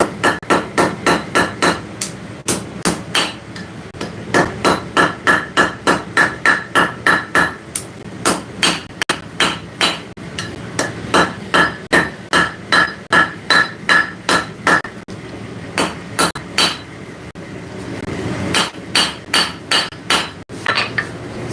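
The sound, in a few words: hammer forging hot metal over the anvil edge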